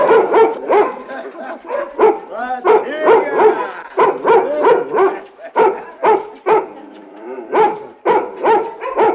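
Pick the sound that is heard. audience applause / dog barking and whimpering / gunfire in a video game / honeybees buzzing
dog barking and whimpering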